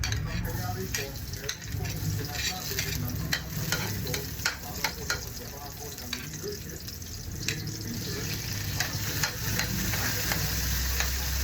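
Garlic, onion and tomato being sautéed in a pan for sinigang sa miso with milkfish, a steady sizzle running throughout with scraping stirs and clinks of a utensil close by.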